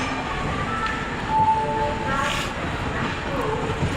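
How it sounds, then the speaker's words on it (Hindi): The Gitanjali Express stands at Bilaspur station, with a steady rumble of the train and station hum, a brief tonal squeal, and a voice talking over the noise. "अभी ट्रेन अभी पहुंची है बिलासपुर पे"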